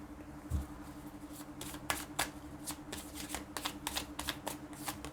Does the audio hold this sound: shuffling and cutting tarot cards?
yes